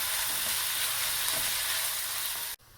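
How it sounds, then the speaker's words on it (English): Ground meat browns in a hot pan for Bolognese ragù, with a steady, dense sizzle and crackle heard close up and alone, cutting off abruptly near the end. "The meat is browning beautifully."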